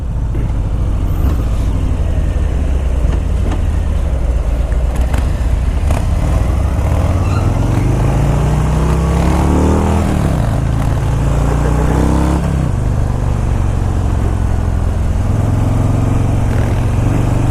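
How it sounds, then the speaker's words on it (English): A 2018 Harley-Davidson Breakout 114 with its 114 cubic inch engine runs loud and close throughout while being ridden, with a steady low rumble, several rising revs as it accelerates, and no talking. "This has the 114 cubic inch motor. This thing has tons of power."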